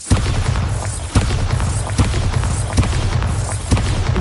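Bombarda explosion spells in Hogwarts Legacy go off as a run of loud, deep booms, about five heavy thuds at roughly one-second intervals over a rumbling low backdrop.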